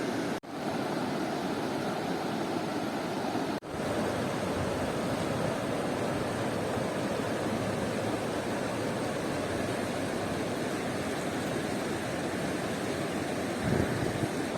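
The Beas river flowing at its confluence with the Parvati river at Bhuntar in Kullu, a steady broadband rushing roar of fast water, loud and unbroken, with a couple of brief dropouts.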